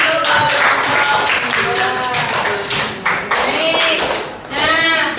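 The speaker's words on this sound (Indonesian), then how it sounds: "berikan tepuk tangan untuk kelompok" A classroom of students claps together for a group, a dense burst of applause heard close and loud. Voices and chatter run underneath throughout.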